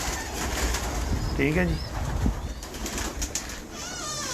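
Pigeons coo briefly near the middle of the clip during a bird show, heard under a steady noisy background while someone speaks a few words.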